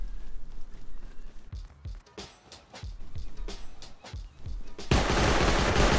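Video game gunfire in a no-crouch challenge match, a series of sharp close shots fired singly and in short bursts, then a sustained loud burst of rapid automatic fire at the end.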